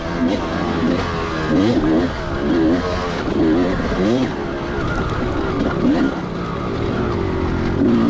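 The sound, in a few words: 2004 Kawasaki KX250 dirt bike riding on track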